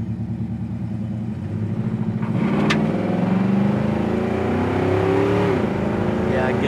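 A 1969 Oldsmobile Cutlass Supreme with a built transmission accelerates from low rumble, its engine note rising and swelling louder as it gets up to speed, with a brief high whine near the middle.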